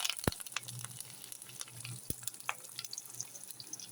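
Mustard seeds and curry leaves splutter in hot oil for a Kollam-style stingray curry, a steady quiet sizzle broken by two sharp pops near the start and middle, with no talking.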